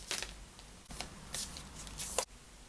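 Tarot cards are shuffled and drawn in a quiet room, giving soft papery riffles and brushing sweeps in short bursts, close and fairly gentle, ending abruptly, with no talk.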